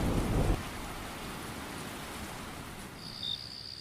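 A cartoon thunderstorm effect: a brief loud rumble of thunder at the start, then steady rain hissing alone, with a faint high tone near the end.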